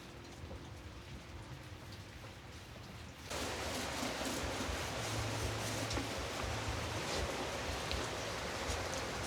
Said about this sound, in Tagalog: Ang lakas pa rin ng ulan ah.